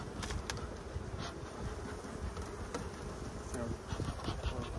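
Dense, close buzzing of many honey bees, a constant droning swarm with occasional louder passes near the microphone.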